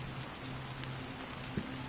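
Rain falling in the video game Honkai: Star Rail, a soft, even patter held at low volume with a faint tonal hum underneath and a single brief tap near the end.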